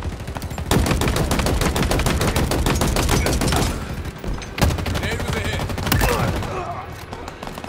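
Heavy gunfire during a Halo Infinite match, with dense, continuous bursts of automatic fire and several sharper shots sounding loud and close for most of the clip before easing slightly near the end.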